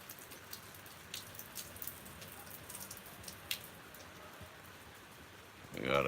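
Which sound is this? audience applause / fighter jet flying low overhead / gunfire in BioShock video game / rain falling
rain falling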